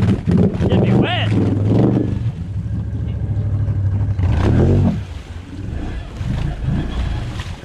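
An off-road vehicle engine revs hard while driving through a deep water hole, with rising and falling roars over splashing and rumble, loud and near, and voices talking and shouting over it.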